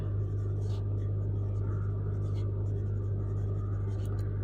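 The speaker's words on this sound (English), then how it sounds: "Here I had used 4B pencil." A 4B graphite pencil shading across paper, a steady soft scratchy rasp that continues throughout, close and quiet, with a low constant hum underneath.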